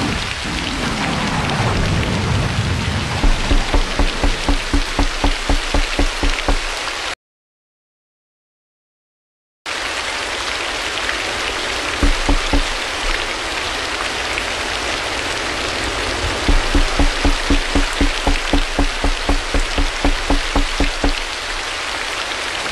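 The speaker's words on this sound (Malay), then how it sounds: "hujan beserta guruh waktu malam" Heavy rain hisses steadily at night while thunder rumbles low beneath it; short bursts of rhythmic tapping come and go, and a brief silent gap breaks the downpour.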